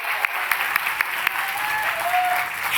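Audience applause at a formal charity benefit gala honoring guests, a dense, steady wash of clapping from a sizable crowd lasting the whole moment.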